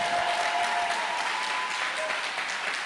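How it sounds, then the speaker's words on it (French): A church congregation bursts into sustained applause and acclaim for the Lord, a dense, even wash of clapping filling the hall with voices mixed in. "Est-ce qu'on peut acclamer le Seigneur?"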